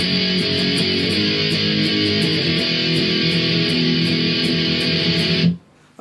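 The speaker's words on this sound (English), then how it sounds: "Guitar two is going to sound like this then." Distorted electric guitar plays a guitar two chorus part, a sustained, loud chord texture with steady picked pulses on top, cutting off sharply near the end.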